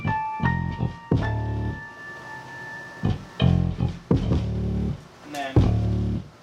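Keyscape keyboard keys layered into a hip-hop beat, struck chords and notes over a thumping low-end rhythm, loud and close with no voices.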